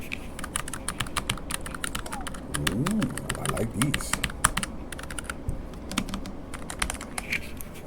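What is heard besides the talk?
wireless keyboard typing sound test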